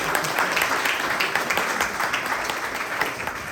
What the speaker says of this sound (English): Let's keep the applause going for the mothers.